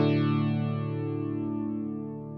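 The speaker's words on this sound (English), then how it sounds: "I've got a chorus, stereo chorus, but I've got the speed turned all the way down" A single ringing guitar chord played through a slow stereo chorus on an HX Stomp sustains and slowly fades over two seconds, smooth and wide with only subtle movement.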